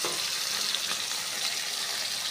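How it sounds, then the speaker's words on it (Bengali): Sarpunti fish sizzle as they fry in hot oil in a wok, a steady bright hiss that holds at an even level throughout with no pauses, close and loud, with no voices over it. "মাছ ভাজার জন্য সরপুঁটি মাছগুলো আমি এক এক করে কড়াইয়ের মধ্যে দিয়ে দেব।"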